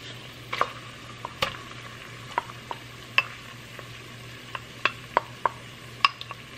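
Garlic, ginger paste, ketchup and tomato paste cooking in a pan over medium heat, with a quiet sizzle under sharp, scattered clinks and scrapes of a utensil stirring against the pan.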